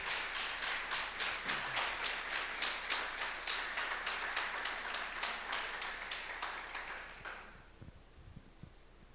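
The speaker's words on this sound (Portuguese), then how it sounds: "Você pode aplaudir ao Senhor?" A church congregation bursts into steady, rhythmic clapping in unison, many hands beating together for about seven seconds before the applause thins out and fades, with a few faint scattered sounds at the end.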